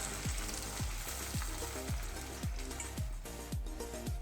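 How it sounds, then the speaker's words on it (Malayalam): Water going into a hot pan of chilli powder for a dried mackerel curry, a continuous sizzling hiss broken by regular thumping knocks, close and fairly loud, no talking. "ഇനി ഇതിലേക്ക് നമുക്ക് കുറച്ച് വെള്ളവും കൂടെ ഒഴിച്ചു കൊടുക്കാം"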